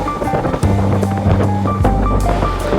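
Motorcycle on the high mountain road from Leh to Khardung La in Ladakh, its engine a steady low drone under strong wind buffeting the microphone, with the throttle note shifting partway through.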